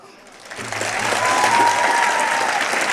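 An audience at a motivational talk breaks into applause that rises quickly from a hush into a dense, sustained wash of clapping and holds strong to the end.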